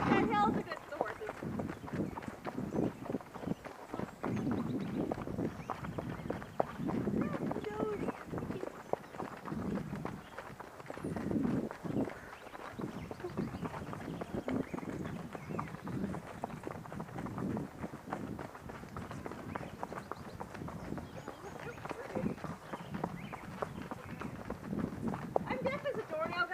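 Horses' hooves on a hilly trail while riding up gallop tracks, a steady rhythmic thudding of footfalls at close range, heard under a rider talking.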